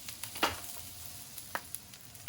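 Garlic cloves and sage leaves sizzling in a pan, a soft, quiet frying hiss with a few brief crackles and pops.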